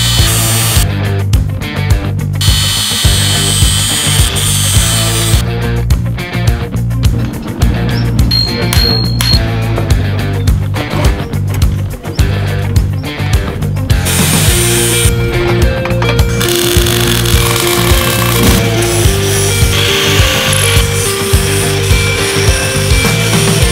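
Loud, continuous abrasive grinding of a metal bicycle bottom bracket axle, a harsh rasping whine that runs steadily throughout with slight shifts in pitch.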